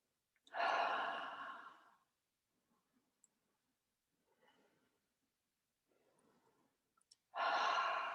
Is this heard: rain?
no